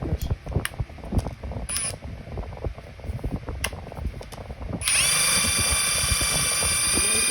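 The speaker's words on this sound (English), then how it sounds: "That was a lot of drilling" Rattling, clattering workshop noise gives way to a steady high-pitched power drill whine, drilling holes through cabinet doors for pulls, running continuously near the microphone.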